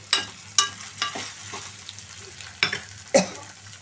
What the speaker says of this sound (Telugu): దీన్ని తిప్పుకోవాలన్నమాట గంటి పెట్టి